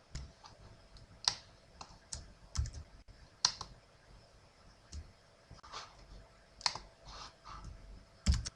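Computer keyboard typing, close and quiet, in short irregular bursts of key clicks with sharper thumps at a few points and gaps between them.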